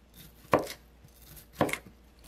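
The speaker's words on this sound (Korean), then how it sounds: "브로콜리 한 송이는 작은 송이로 자르세요" Two sharp knife chops through a head of broccoli on a cutting board, spaced about a second apart, each a crisp close thud with a brief crunch, quiet between strikes.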